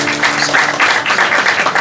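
Church congregation applauding warmly, a steady, dense burst of many hands clapping in a hall, loud and continuous with no speech over it.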